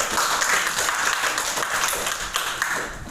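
Students in a lesson clap their hands, a steady dense patter of applause filling the room throughout, moderately loud and close, without speech on top.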